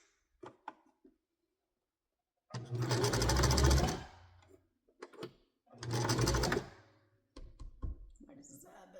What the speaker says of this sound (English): I did just do a back stitch